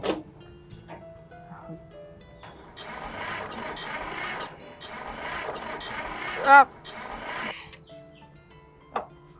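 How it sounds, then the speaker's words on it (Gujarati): A tractor engine cranks again and again without catching, giving a rough mechanical churning over several seconds, then sharp clunks, with voices nearby. "ક્યારનો આ ટ્રેક્ટર ચાલુ કરવા મટું છું પણ કોણ જાણે હાલું શું થયું? આ ચાલુ જ નથી થતું"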